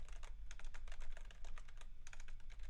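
Steady typing on a computer keyboard during a live coding session, a dense run of quick, close key clicks with a low hum beneath and no talk.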